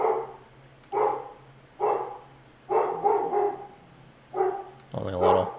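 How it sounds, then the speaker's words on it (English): A dog barking in a series of short, regularly spaced barks, about six in all, fairly close, with a faint steady hum underneath and a final bark that slides into a whine. "Can you hear my dog when she barks like that?"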